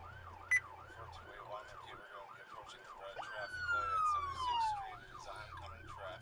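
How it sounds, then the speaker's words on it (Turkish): A police car siren wails in steady repeating up-and-down cycles during a police chase, a second deeper sweeping siren tone rising over it midway, moderately loud with no talking. "Arkada bir siren daha var böyle kalın bir siren."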